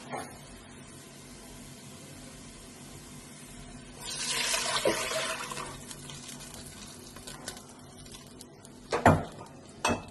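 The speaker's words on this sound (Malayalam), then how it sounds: "നമുക്ക് വെള്ളം ഒഴിച്ച് കൊടുക്കാം" Four cups of water pour steadily into a pot for making fish biryani for a couple of seconds, followed by a few metallic clanks.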